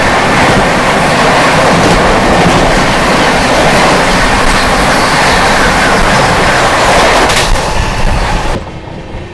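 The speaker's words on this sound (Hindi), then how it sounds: "दोस्तों सामने से आती डिब्रूगढ़ राजधानी।" A Dibrugarh Rajdhani express train passing close by on the opposite track, a loud, dense roar of rolling wagons with clattering wheels that holds steady throughout before cutting off sharply near the end.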